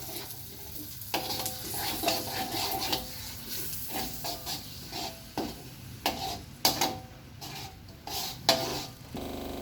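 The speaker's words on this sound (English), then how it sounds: "And then we put in the egg into the pan. And we stir it again with spatula." Egg is stirred with a spatula in a frying pan for fried rice, sounding as repeated scraping strokes over a soft, steady sizzle, close and fairly quiet, with no talk.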